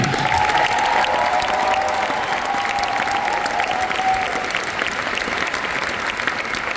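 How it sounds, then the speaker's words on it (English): A concert audience applauds the choir basses of the Singing Hoosiers at a spring concert, with sustained, even clapping and faint crowd murmur, no speech on top. "A round of applause for our basses."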